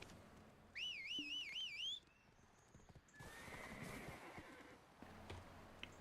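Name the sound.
horse neighing and hooves in Black Desert video game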